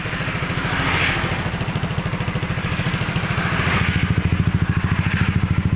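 A Yamaha NMAX 155 scooter fitted with an F2Racing long carbon full exhaust system idles nearby with a deep, bassy, steady putter that blips slightly louder toward the end.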